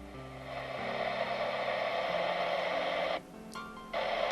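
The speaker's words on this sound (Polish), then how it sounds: "Głośnik szumi." An Alan 199A CB radio on a repair bench gives out a steady, fairly loud hiss of static through its speaker. The noise drops out briefly twice near the end and then returns.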